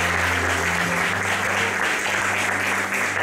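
A church congregation applauds to welcome a boy preacher, giving dense, continuous clapping that holds steady and loud throughout, with a low hum beneath.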